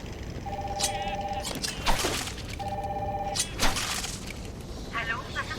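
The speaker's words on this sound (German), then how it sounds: "Da geht der Telefon über." A telephone rings twice in the video game Batman Arkham Asylum, a bright electronic trill with a pause between rings, set against a dim ambient background with a few sharp clatters.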